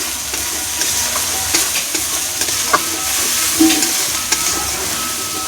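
A spice paste with turmeric and salt fries and sizzles loudly in a pan, a steady close hiss broken by light scrapes and taps of stirring, with no talking.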